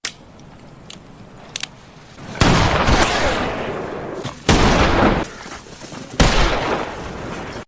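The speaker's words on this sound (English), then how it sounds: "Not long after, a shot was heard from Ketchum" Gunshots ring out in a western, several sharp loud cracks spaced seconds apart, each followed by a long decaying echoing roll, with a few faint clicks before the first blast.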